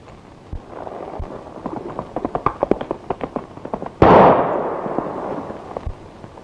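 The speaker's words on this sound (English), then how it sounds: "Don't pull that gun. I'm shooting." A single loud gunshot in an old western movie cracks out sharply and rings with a long decaying echo, following a series of rhythmic hoofbeat-like clops and a few scattered thumps.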